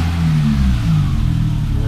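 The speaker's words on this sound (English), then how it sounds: "But then let's go ahead and start the car." BMW E30 engine running with a steady, loud low rumble that swells slightly as it revs, close and continuous with no talking over it.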